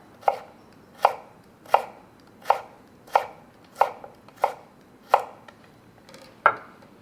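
A knife chopping through stacked vegetables into julienne matchsticks on a cutting board: nine crisp, evenly spaced chops, close and clear with no talking.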